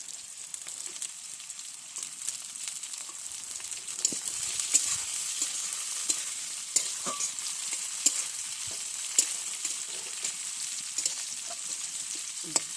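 Steady sizzling of chopped green chillies frying slowly in a pan for cauliflower chicken kosha, with occasional soft clicks of stirring, close and continuous with no talking.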